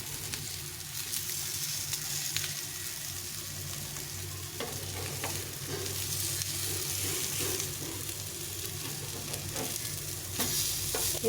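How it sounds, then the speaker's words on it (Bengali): Banana flower fritters fry in a small amount of oil, giving a continuous close sizzle with faint pops and intermittent scraping and stirring sounds from a spatula pressing them in the pan. "একদম কম তেলে ভেজে নিতে হবে"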